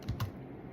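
Typing on a Mac computer keyboard: a few soft, close key clicks in under a second, with no voices.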